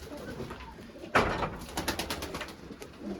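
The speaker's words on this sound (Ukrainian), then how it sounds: "Покажи голуба чорного." Pigeons coo in soft, rolling calls against a busy outdoor background with rustling and wing flutters nearby.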